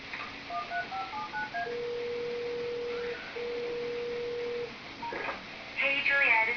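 A series of telephone keypad tones and beeps from the video game Lollipop Chainsaw, followed by a long steady tone with a brief break and a bright electronic chime at the end, heard alone over a low hiss.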